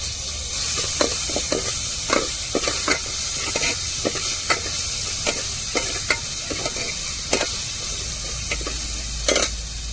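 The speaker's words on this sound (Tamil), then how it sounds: "அதுக்கப்புறம் காயப்படி சேர்த்துக்கிடுவோம் பூண்டு சேர்த்துக்கிடுவோம்" Asafoetida and garlic sizzle in hot oil for coconut milk rasam, a steady close fry broken by repeated stirring clicks of a spoon against the pan, with no voices.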